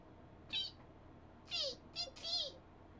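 A human voice mimics an otter's chirp with several short, high, squeaky calls, one alone and then a quick cluster of three, over quiet room background.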